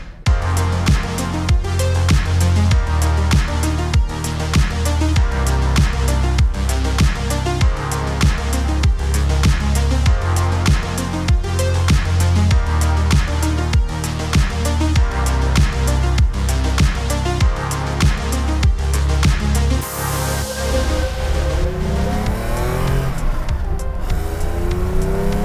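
A 1977 Porsche 911 S with a 3-liter engine sourced from a 911 SC drives hard, its flat-six engine loud and close, rising and falling through repeated gear changes with revving accelerations across the stretch.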